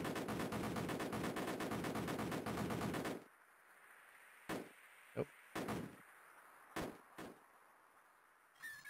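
Rapid machine-gun fire from a retro video game played on a MiSTer FPGA, a dense, loud burst for about three seconds, then quiet broken by a few isolated short shots and blips.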